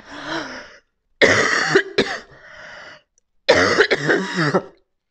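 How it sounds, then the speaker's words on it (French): Two bursts of harsh coughing and throat clearing, close and fairly loud, separated by short silent pauses. "je vais faire un petit nettoyage, je vais tousser."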